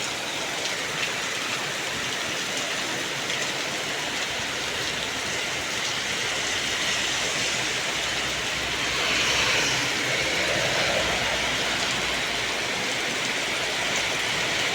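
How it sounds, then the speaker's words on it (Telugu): Heavy, unbroken rain pours down on an early morning, a dense, loud, steady roar of drops hitting surfaces all around, with no voices. "చూడండి ఫ్రెండ్స్, వర్షం ఎలా పడుతుంది ఇక్కడ."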